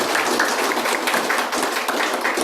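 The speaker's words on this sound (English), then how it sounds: "So clap and clap." A crowd claps continuously and fairly loudly during a devotional Bhagavat Saptaham gathering, a dense, even roar of many hands with slight swells and no voices on top.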